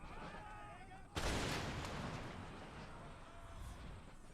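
Musket volleys and artillery fire from an Empire Total War battle, a sudden loud burst about a second in giving way to dense sustained gunfire and rumble, with voices faintly mixed beneath.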